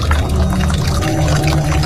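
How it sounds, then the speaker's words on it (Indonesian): Tap water running steadily into a basin at a mosque ablution area, a continuous close splashing pour with no pauses. "dan mengambil air untuk cuci muka."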